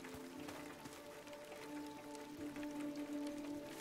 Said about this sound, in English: I mean, I know it's raining.